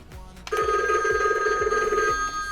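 A Disney Mickey Mouse limited edition animated toy telephone rings with a steady electronic bell trill lasting about a second and a half, close and fairly loud, over a faint repeating ticking.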